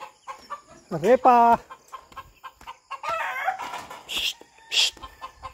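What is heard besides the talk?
chicken clucking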